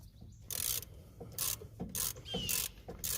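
A ratchet working a 17 mm caliper bolt loose on a 2007 Scion tC, several close, quiet bursts of rapid clicking with short pauses between strokes.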